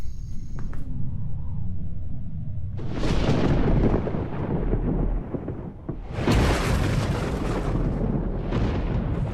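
Thunder from a storm over a prehistoric tropical forest rolls in deep, loud rumbles, with a heavy crack near the start and another surge midway, sustained and booming with no voices.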